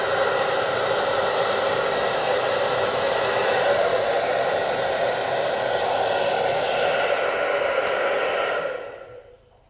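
A hair dryer blows steadily on a bunny's fur, a loud, even whoosh held close and constant before cutting off near the end.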